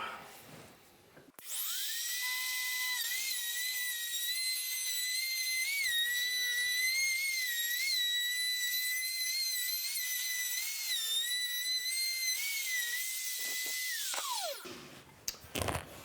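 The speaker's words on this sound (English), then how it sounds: "slide this router in the corner and just ride it along the rail, just like so." A router cuts a groove in a wooden cutting board while riding along a rail, spinning up into a loud, piercing, steady whine that wavers slightly under load for about twelve seconds before winding down.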